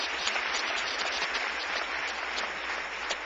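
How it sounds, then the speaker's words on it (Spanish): A church congregation claps in steady, dense applause that fills the room with a constant, even patter. It is heard alone, with no voices over it. "Dale un aplauso al Señor"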